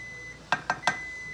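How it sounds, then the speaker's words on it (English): A kitchen timer goes off with three quick, evenly spaced electronic beeps, loud and close, over faint background hiss and no talking. "as soon as my timer goes off here"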